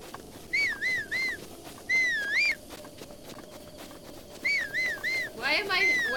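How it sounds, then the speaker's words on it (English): A player character in a Zelda game whistles a repeated rising-and-falling tune while running, several short bright phrases separated by pauses over steady game background noise, with no talk. "Somebody said to whistle while I'm running."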